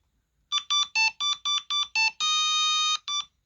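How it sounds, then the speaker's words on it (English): A Game & Watch Super Mario Bros handheld plays its game-start jingle: a quick run of seven short electronic beeps, then one long sustained tone and a final short beep, clean and alone. "So that's the game starting."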